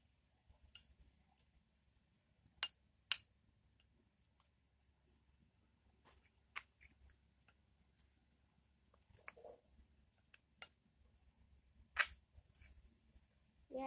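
Homemade slime being stirred as it nearly sets, giving sparse, faint sticky squishes and clicks spread across a quiet stretch with no talking.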